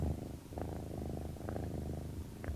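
Steady, deep rumbling purr of a large cat, continuous and close, with a low rhythmic throb throughout.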